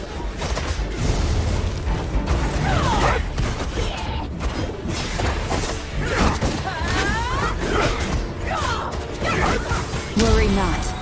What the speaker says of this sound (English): Taste my cannon!